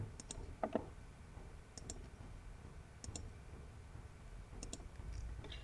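A computer mouse clicks faintly while lines are selected in SolidWorks CAD software, giving several soft, evenly spaced double clicks over a quiet background.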